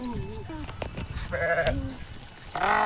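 A sheep receiving a government HS vaccine injection bleats several times, with close, wavering cries spread through the moment and a voice talking around them.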